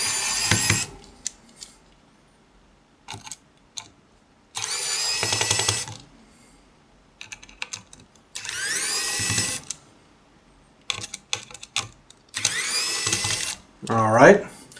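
An electric screwdriver backs out four screws holding the protective faceplate of a DMM Check Plus meter, several loud whirring bursts of a second or two each, separated by quiet gaps with small clicks and handling.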